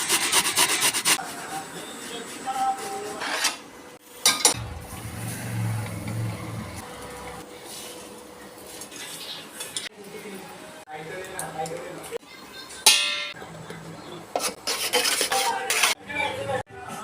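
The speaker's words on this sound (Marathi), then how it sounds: "माता किसायला लावलं खोबरं" Fresh coconut is grated by hand in a home kitchen for sweet modak filling, giving close, repeated rasping scrapes in uneven bursts, with some louder strokes and brief pauses, while voices occasionally talk in the background.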